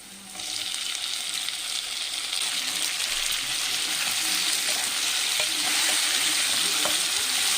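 Tomatoes and vegetables sauté in a pan with a loud, dense sizzle that swells after a quieter start and keeps hissing steadily, with occasional small pops.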